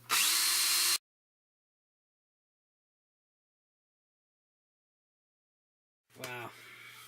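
A power drill with a worn bit boring into steel, heard as a loud whining burst for about a second, then silence, then a shorter, fainter whirring run as the drill starts again.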